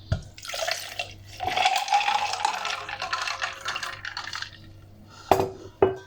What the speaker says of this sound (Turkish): Şimdi içeceğimi de üzerine ilave ediyorum.